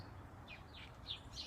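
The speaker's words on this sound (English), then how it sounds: "I'm getting totally distracted by the birds and the squirrels out here." Outdoor birds chirp in short, bright bursts, four or five quick calls spaced over a faint steady background, fairly distant and soft.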